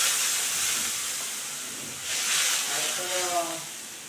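Ground ginger, garlic, onion and chili paste drops into hot oil for a silver carp curry, setting off a steady steam-like hiss that swells midway, with a faint voice underneath.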